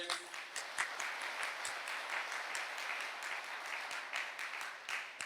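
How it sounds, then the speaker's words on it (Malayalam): A church congregation claps steadily and evenly in a sustained round of applause, heard at a moderate distance with no talking over it. "ഒന്നുകൂടെ കൈയടിച്ചേ."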